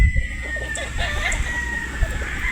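Roosters and hens on a game farm in Batangas, heard through a raspy crowing call and scattered clucking from fowl nearby, over a steady background hum.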